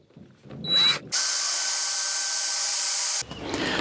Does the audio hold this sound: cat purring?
no